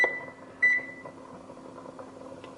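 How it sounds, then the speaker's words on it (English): A kitchen timer gives two short electronic beeps as it is set during stovetop cooking, fairly faint over a low background hum with no one talking. "So we are going to set our timer."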